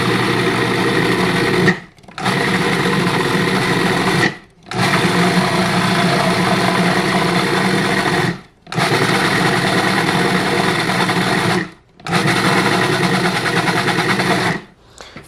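A food processor whirs loudly as it pulses a falafel mixture with an added egg, five long steady motor runs, each broken by a short silent pause.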